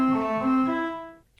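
Sampled French organ notes ring as a bright, harmonically rich chord, then stop quickly with the release tail turned down, leaving a dry, short cutoff and near silence.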